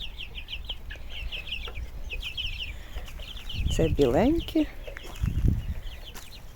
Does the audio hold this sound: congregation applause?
no